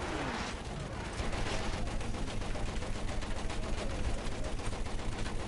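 Video game gunfire rattles away as a dense stream of rapid, overlapping shots. The sound stays steady and fairly distant throughout, with a constant noisy background and no clear speech.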